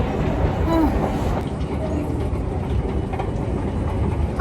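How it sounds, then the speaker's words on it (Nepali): A metro train rides through a tunnel with a loud, steady low rumble and faint rattling of the carriage. Muffled voices can be heard in the background. "फेरि झरेर फेरि अर्को ट्रेन चढ्न थालेको"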